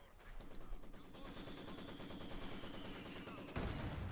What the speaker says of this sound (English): mortar fire flying down there